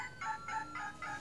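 Chicken clucking from a musical farm barn toy with animal sounds, four even electronic clucks in a quick regular rhythm, fairly quiet and clear with nothing else over it.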